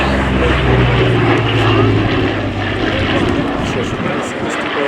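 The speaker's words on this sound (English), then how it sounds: "And here it is, the Douglas A-26C Invader." Propeller engines of a Douglas A-26C Invader at an air show at Duxford, a loud, steady droning roar holding throughout with a slight fade toward the end, and a voice speaking over it.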